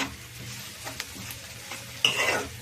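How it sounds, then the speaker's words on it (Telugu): Onions and green chillies frying in oil in a pan, a steady soft sizzle with a few scraping stirs and a louder burst of crackling near the end. "ఆయిల్ పోసి ఉల్లిపాయలు పచ్చిమిరపకాయలు వేసేసా"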